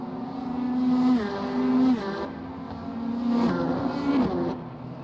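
GT3 race cars, including two Corvettes, racing at the Algarve circuit, engines droning loud and close with gear changes and pitch shifts as the cars run nose to tail, no talk over them.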